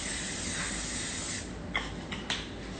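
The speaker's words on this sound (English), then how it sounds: "I actually spray my vegetables with this Pam olive oil" Pam olive oil cooking spray spritzed over vegetables in a home kitchen: a steady close hiss for over a second, then a few shorter sharp bursts.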